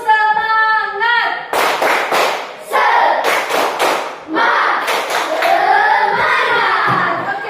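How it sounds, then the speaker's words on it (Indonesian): Children perform a rhythmic group spirit clap, bursts of sharp hand claps in a patterned sequence mixed with chanting voices, loud and close, with a single voice speaking at the start. "Tepuk semangat."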